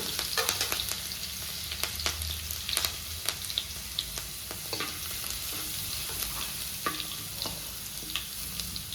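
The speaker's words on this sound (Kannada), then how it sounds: "ಇದು ಚೆನ್ನಾಗಿ ಫ್ರೈ ಆಗಬೇಕು. ಹಾಗೆ ಇದರೊಟ್ಟಿಗೆ ಕರಿಬೇವನ್ನ ಸೇರಿಸೋಣ." Crushed garlic and curry leaves fry in a pan, giving a constant near sizzle with scattered pops and light stirring scrapes over nine seconds.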